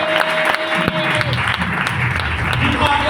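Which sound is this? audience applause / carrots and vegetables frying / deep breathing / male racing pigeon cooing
audience applause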